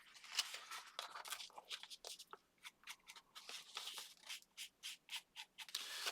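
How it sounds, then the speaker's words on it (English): Red ink is rubbed by hand onto paper for a no-sew envelope journal, giving close, dry scratchy strokes in short bursts with a regular back-and-forth rhythm and no voice over them. "rub a little bit of this red on here."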